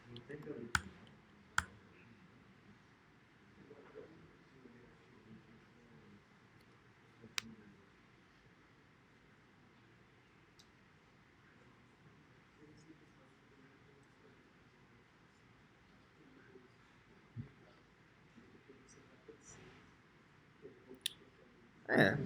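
Computer keyboard keys click in scattered sharp taps, some louder and isolated, over a quiet room hum while people talk softly at a desk during microcontroller work.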